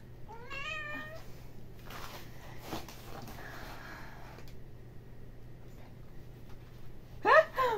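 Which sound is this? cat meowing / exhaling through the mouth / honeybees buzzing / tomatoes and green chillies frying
cat meowing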